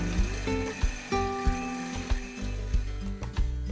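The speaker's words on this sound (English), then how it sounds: "Chain hoists are used to raise the hull from the mold." Irregular metallic clanks and ratcheting clicks from chain hoists raising a boat hull from its mold, with a steady mechanical hum underneath, close and moderately loud.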